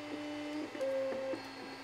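A Mosaic Palette+ multi-colour 3D printing accessory feeds spliced PLA filament through a tube, giving a faint, steady motor whir with short stepping tones rising and falling.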